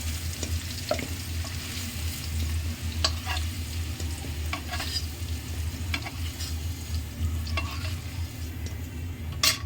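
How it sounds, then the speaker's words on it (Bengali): Potatoes fry in a pan with a steady, soft sizzle, broken by occasional light stirring scrapes and a few sharper clicks, close and fairly quiet with no talking. "আলুটা আমার লাল লাল করে ভাজা হয়ে গেছে এখন আমি তুলে নেব"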